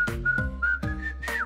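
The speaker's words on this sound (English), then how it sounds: "Now keep your hand where it is and try whistling." A person whistles a short series of bright, clear notes, four separate rising chirps in quick succession, close and fairly loud with no talk over them.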